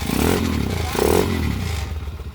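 A motorcycle converted to a 200cc engine, running rough and stuttering, revs in two short, uneven bursts at close range, with a raspy, sputtering exhaust note.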